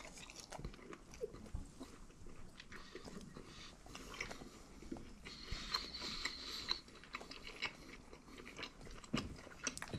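Close-up chewing and crunching of BiFi meat snack sausages during a speed-eating challenge of six in three minutes, steady wet biting and mastication sounds continuing throughout with no talk.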